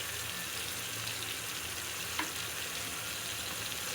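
Salt, turmeric and chili powder sizzle steadily in a hot pan of oil as the spices are fried, a close, even crackle with faint stirring scrapes and no talking.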